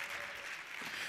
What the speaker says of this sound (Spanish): No aplaudan ahí.